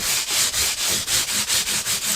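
Close, steady back-and-forth rubbing of a fine sanding block along the edges of the frets of a Danelectro 67 guitar, about ten even strokes in a brisk rhythm with no talking.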